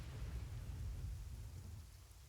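A thunderstorm at sea in the video game Genshin Impact, heard while sailing: dense, steady rain hiss over deep low rumbling, fairly faint and unbroken.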